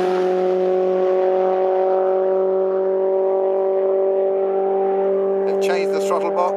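A Formula 4 race car lapping Snetterton circuit during a test day, heard as a steady, sustained engine drone with strong tonal harmonics, followed by a brief rougher burst near the end.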